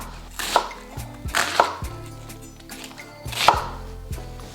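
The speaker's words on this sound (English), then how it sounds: "So I'm going to cut half of my onion." A knife chops an onion on a board, close and clear, with three separated bursts of chopping and softer knocks between them, and no voices.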